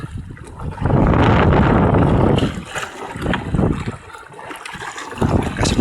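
Strong northeast monsoon wind buffets a fishing boat at sea: loud, steady roaring gusts swell and ease in waves, with water and hull noise beneath.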